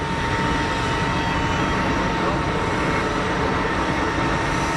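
A Falcon 2000 EX business jet at Geneva Airport roars steadily, loud and broadband, a continuous engine rush with no variation and no voices.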